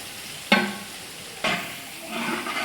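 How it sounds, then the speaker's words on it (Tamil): Tomatoes sautéed in oil for a chicken oil roast, with two sharp stirring scrapes over a steady background sizzle and frying building louder toward the end. "தக்காளி சேர்த்தோம் நல்லா வதக்கி விடணும்."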